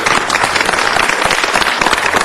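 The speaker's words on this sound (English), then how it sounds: "Please give a big round of applause to Wave." At a city council meeting, a room of people breaks into loud, close, dense applause for a guest, a steady wash of clapping over the whole short stretch.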